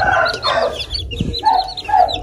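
Hens and chicks on a farm clucking close by in short, repeated bursts, with higher chirps in between and no talk over them.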